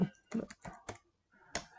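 Someone types on a computer keyboard while filling in an online form, with a handful of separate, close key clicks spaced irregularly and a short pause before one last press.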